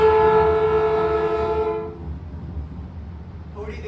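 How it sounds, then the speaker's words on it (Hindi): A loud, steady train whistle sounds for about two seconds, then cuts off, leaving the low rumble of the moving train. "तभी इंजन ने सीटी दी और उसकी एकरस रफ्तार टूट गई।"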